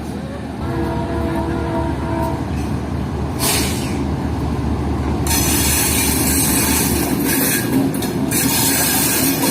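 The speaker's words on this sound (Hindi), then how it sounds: "तो वो 3 कोचेस अटैच होने के बाद ट्रेन आ रही है अब बाकी ट्रेन के साथ अटैच होना" Three coaches shunting along a Pakistani rail line to couple with the rest of the Fareed Express train, a loud steady rumble of wheels on track with bursts of hissing air brakes and metallic clatter, voices faintly underneath.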